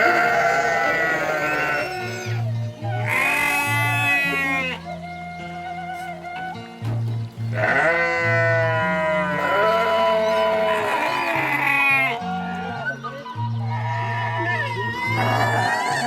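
Sheep bleat repeatedly in a village, several loud wavering calls coming one after another, some overlapping, close to the listener over a low rhythmic background sound.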